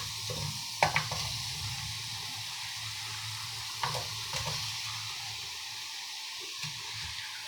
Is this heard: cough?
no